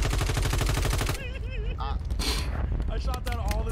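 Rapid bursts of automatic gunfire in the video game Warzone 3, loud and continuous at first and then more scattered, with game effects and chatter mixed in.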